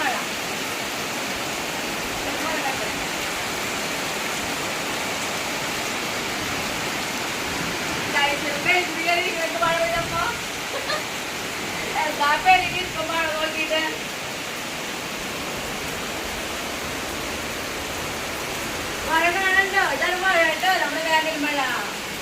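Steady rush of rain pouring down, broad and constant, with a voice speaking briefly over it at a few points.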